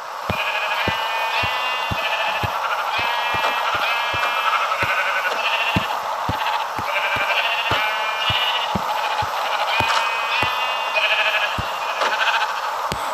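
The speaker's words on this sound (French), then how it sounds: "Et on met des moutons." Sheep in the Minecraft video game bleat repeatedly in quick, overlapping calls, with sharp regular clicks ticking alongside throughout.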